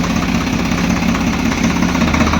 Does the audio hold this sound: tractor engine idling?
yes